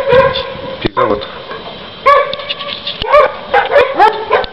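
Several dogs bark, yip and whine during a heavy blizzard in Chelyabinsk, Russia, in sharp, close bursts with irregular gaps between them.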